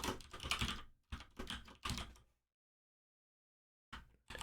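Quick bursts of typing on a computer keyboard, entering a message into a chat during a chess.com match broadcast, come in three close clusters, then a gap of silence and a final short burst.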